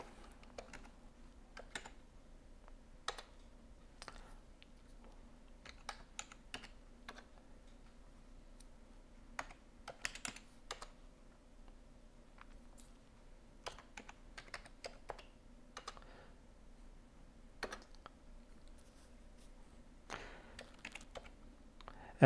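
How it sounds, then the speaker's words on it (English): Code typed on a computer keyboard for programming a Microchip microcontroller: a quiet, steady stream of irregular keystroke clicks with brief pauses, running for over twenty seconds with no voices. "So I'm going to type out a little bit of code"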